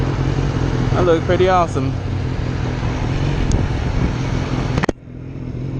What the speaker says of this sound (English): As long as you're rolling onto the throttle, you can shift up through the gears.